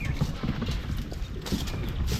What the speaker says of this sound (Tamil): குதிரை இருக்குங்க.